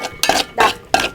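A spoon stirs tomato and rasam spices in a pot, making three or four distinct scraping strokes in a steady rhythm, close and fairly loud, with no talking.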